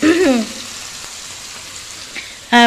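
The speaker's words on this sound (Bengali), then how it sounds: "এই যে একটা এখন ভাজছি পাঁচফোড়ন আর হচ্ছে মরিচ" Bengali five-spice (panch phoron) and chilies sizzling in hot oil, a steady crackling fry close by, with a brief voice at the start and end.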